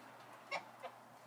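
Geese on a small farm give two short honks about a third of a second apart, moderately near and fairly quiet, with no talking.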